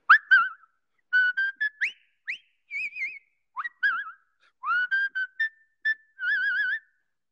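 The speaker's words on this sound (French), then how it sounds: "Le pont de la rivière Kwai que tout le monde siffle" Whistled rendition of the march from The Bridge on the River Kwai, bright clear notes in short phrases with brief pauses between them, close and solo with no accompaniment.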